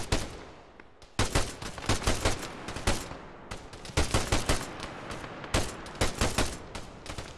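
Gunfire in a military video game: dense bursts of rapid shots and fusillades crackle in clusters, loud and close, with brief lulls between volleys and no voices.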